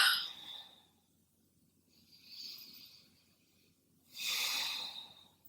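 Deep slow breaths during a yoga-inspired core workout, a soft airy exhale, then a gentler breath, then a long, louder exhale near the mic, with quiet between.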